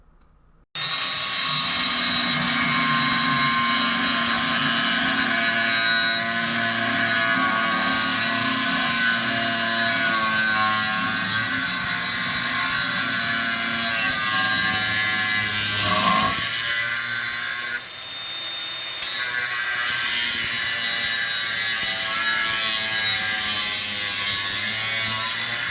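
Steady sawing through the exhaust pipe near the rear muffler of an Audi S3, a loud continuous rasping cut with a short break near the end, no talking.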